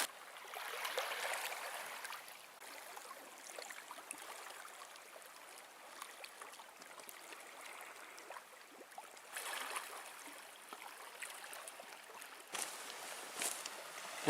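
Water from a river flowing into Lake Superior at its mouth in the Porcupine Mountains, a steady, moderately close wash and gurgle of current and small waves running continuously with slight surges, no voices.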